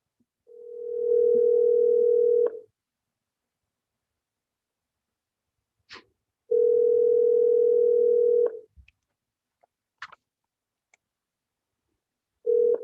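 Outgoing telephone call placed during a school board public-comment meeting: steady ringback tones repeat in long bursts separated by silences, with a few brief clicks and beeps between, clear and close with no talk.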